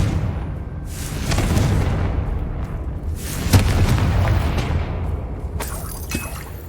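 Explosions from the Confringo spell in Hogwarts Legacy: heavy, rumbling blasts with shattering crackle, one sharp hit near the middle, loud and overlapping for several seconds without speech.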